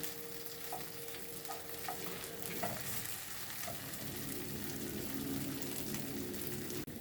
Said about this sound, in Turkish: Sucuklar kızardı. Salça da kızardı.